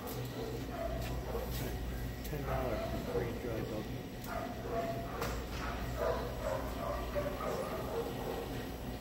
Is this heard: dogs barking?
yes